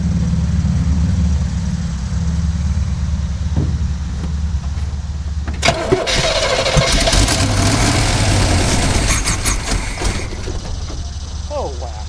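A 1959 Chevrolet Apache truck engine that has sat unrun for years cranks over rhythmically, then catches with a louder burst of rough, sputtering combustion, close by.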